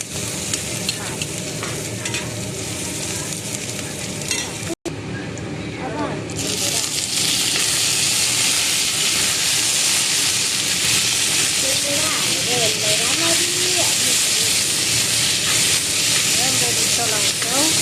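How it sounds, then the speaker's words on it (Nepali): Onions being stirred and fried in a pan for a homemade tomato pickle, a loud continuous sizzle and hiss with scraping stirs, which swells after a brief cut, while a voice talks faintly underneath. "राम्ररी चलाएर यसलाई पकाउने ट्राई गर्नु।"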